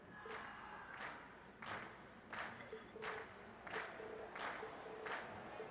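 A crowd in the Trails of Cold Steel video game cheers and claps in regular rhythmic bursts, about eight surges in quick succession over a steady murmur of noise, moderately distant and without speech.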